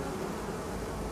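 Honeybees crowd a hive frame holding uncapped brood, their steady close buzzing forming an even, unbroken drone.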